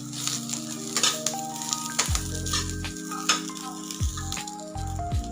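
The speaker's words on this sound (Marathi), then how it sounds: "तो अशा पद्धतीने खरपूस असा छान भाजून घ्यायचा." Masala with coriander roasts in a pan for Katachi Amti, giving a soft continuous sizzle and crackle with occasional stirring scrapes, close and steady, under a faint tonal hum.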